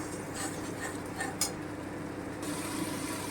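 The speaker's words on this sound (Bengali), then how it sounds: "এবারে আমি খুব ভালো করে একটু কষিয়ে নেব আমি কোনো ঢাকা দেব না" Bengali masala paste for rui fish kalia being stir-fried uncovered in an open pan, a steady low sizzle with light scraping and clinks of a spoon against the pan throughout.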